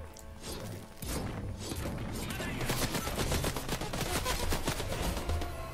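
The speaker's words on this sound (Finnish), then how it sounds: "Kuka siellä jo ammuskeli?" Rapid gunfire in the video game Fortnite, a dense loud burst of repeated shots with crashing impacts that starts after about a second and keeps going to the end, with no talking.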